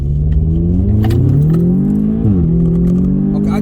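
An Audi S3 or BMW M135i engine pulls hard under full throttle, a loud, close droning rise in pitch broken by a quick gear change dip before climbing again.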